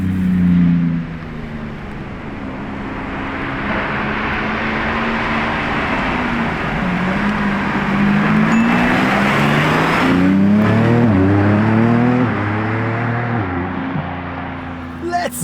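A Lamborghini Revuelto drives by up close, its engine note rising and falling in pitch as it passes, swelling to a louder revving surge near the end amid a crowd's background murmur.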